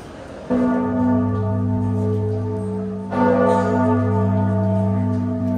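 Church bells ringing up close in the Florence bell tower, two loud strikes a few seconds apart, each leaving a long humming resonance that rings on.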